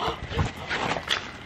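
A dog at night gives a few short whimpering yips and muffled barks in quick succession, fairly distant and faint.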